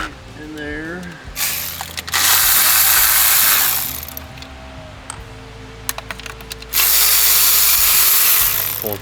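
A ratchet clicks in quick bursts while 10 mm bolts are removed during water pump work on a 2016 VW Passat, the clicking close and interrupted by loud rasping stretches and handling noises.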